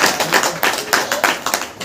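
Congregation clapping hands together during a church prayer meeting, a quick run of rhythmic claps close and loud with a faint murmur of voices.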